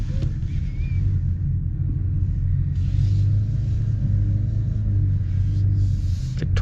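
From inside the cabin, the four-cylinder engine of a 2025 Ford Maverick XLT pickup gives a steady low rumble and a mild buzz under acceleration, continuous and moderately loud with no talk over it.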